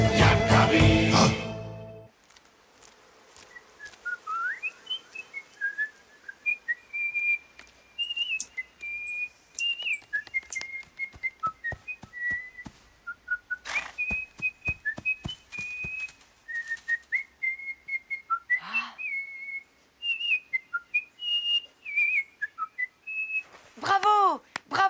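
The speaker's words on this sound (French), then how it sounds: "de tous les oiseaux, tu es le meilleur chanteur de la forêt" A cartoon bird sings a long, melodious whistled song of rising and falling phrases and trills, loud and close, after a brief burst of other sound at the start.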